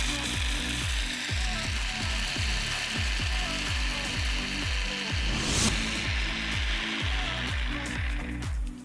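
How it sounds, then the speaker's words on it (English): A blender grinding plain peanuts into peanut butter, loud and close, with a steady rapid rhythmic chopping rattle and a dense mechanical roar from start to end. Nobody speaks. "So we're gonna start with just blending the peanuts"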